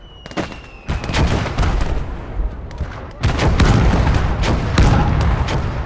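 Heavy field guns fire in a World War battle game, a rapid string of loud booming blasts and cracks with rumbling echoes, the barrage thickening toward the end.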